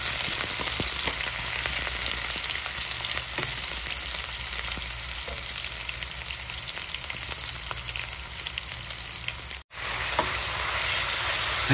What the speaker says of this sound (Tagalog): hinigisa ko na po ang ating bawang, ang ating sibuyas at ang ating luya.